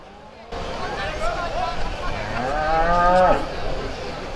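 A Limousin cow lets out a long, drawn-out moo, close and clear, with faint crowd murmur behind it at a cattle judging ring at the Royal Highland Show.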